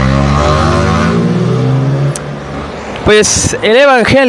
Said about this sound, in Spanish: oh, como odio las motocicletas